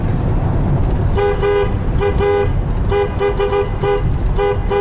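A car horn honks in repeated short bursts, loud and echoing, over a heavy continuous rumble of engine and road noise inside an old railroad tunnel converted for a highway on the Washington coast.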